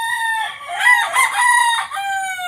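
A Talisayin gamecock crows loudly and close by, one long ringing cock-a-doodle-doo filling the whole moment, with no other sounds around it.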